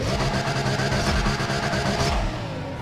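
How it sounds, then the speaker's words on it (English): A stock Lamborghini Murcielago engine in the racing game Need for Speed ProStreet holds a loud, steady, buzzing drone with a pulsing rasp, close and continuous with no talk over it. "that's the normal stock Lamborghini sound. Lamborghini Murcielago A"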